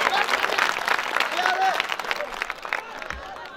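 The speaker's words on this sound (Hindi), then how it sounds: "आप एक बार जोरदार तालियां बजाकर" Audience applause breaks out at a mushaira poetry gathering in Parbhani, dense steady clapping from a sizable crowd that sustains for several seconds before thinning slightly toward the end.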